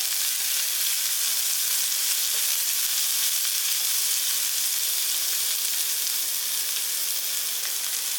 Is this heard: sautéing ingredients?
yes